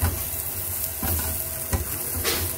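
Food sizzling steadily in a pan of hot oil with salt, a loud continuous crackle with occasional sharper pops and stirring scrapes, no voices.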